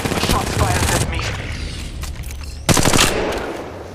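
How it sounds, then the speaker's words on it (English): Gunfire in the mobile battle royale game Apex Legends Mobile: loud, dense bursts of rapid shots, a sustained volley, a lull with scattered reports, then another sharp burst near the end. "Shots fired at me."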